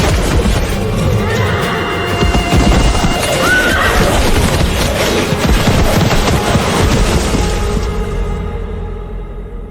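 A battle sound effect from an ancient Indian battlefield, loud and dense: a horse whinnies sharply over clattering hooves and crashing clamor, then the din fades out at the end.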